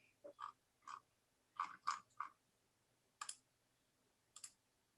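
Computer mouse clicks, a few sharp taps scattered in short clusters of two or three, close and quiet in an otherwise still room.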